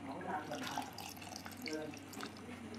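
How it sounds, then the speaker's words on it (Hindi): Tamarind water is poured into a container while making dal sambar, a continuous liquid splashing and trickling that runs steadily throughout at low level. "तो अभी इसी डिब्बे में अमली का पानी भी डाल दूंगी"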